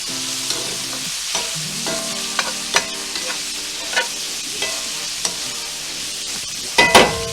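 Green beans with bacon sauté in melted butter, sizzling steadily close by while a utensil scrapes and stirs them in the pan with soft knocks, and a louder clatter comes at the end.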